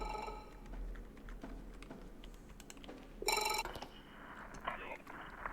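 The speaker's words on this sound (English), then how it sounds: "I hear a phone" A telephone rings in the MOLE video game demo, a bright ringing burst partway through amid faint clicks and keyboard-like tapping, with quiet whispered speech in the background.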